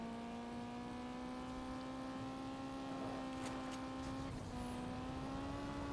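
The player's first car in Gas Guzzlers Extreme drives with a steady, droning engine tone that holds nearly constant pitch, with faint scrapes and thumps passing briefly over it.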